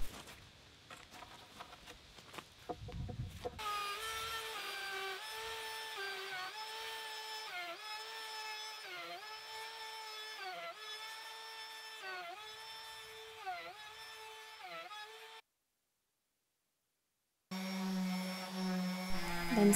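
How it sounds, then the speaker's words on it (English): Router cutting a 45 degree edge along the underside of a wooden mantel, a steady high-pitched whine repeatedly dipping in pitch as the bit bites in, then a short silence before it resumes. "So on the underside, I'm routing a 45 degree edge."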